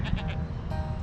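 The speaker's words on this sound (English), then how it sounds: "But then you brought home goats." Goats on a small farm let out three quick, nasal bleats close by, then fall quiet under a low background hum.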